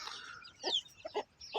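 A rooster for sale, kept with a hen and her seven chicks, gives a few short, close clucks in quick succession, clear and alone without any talk.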